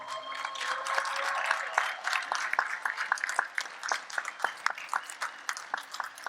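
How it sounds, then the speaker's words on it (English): A crowd at a university commencement ceremony applauding, dense clapping at first that thins into scattered individual claps toward the end. "You should give a big round of applause just for everyone that's been here to support you"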